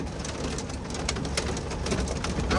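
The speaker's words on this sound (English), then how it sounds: "There's hail everywhere." Rain and hail pelt down during a sudden storm on Interstate 45 around a Peterbilt 379 truck, a constant dense patter of strikes with scattered sharper taps, filling the scene evenly at moderate loudness.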